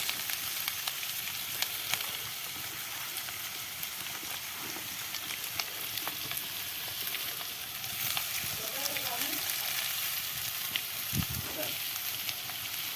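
Grated coconut roasts with onion in hot oil in a pan, giving a steady low sizzle with occasional scrapes and clinks, no speech heard.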